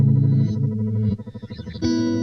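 An Empress Effects Zoia pedal set to pitch shift an octave up processes sustained guitar notes, giving a thick doubled, warbling tone that stutters in the middle and then settles on a new chord, with no talking.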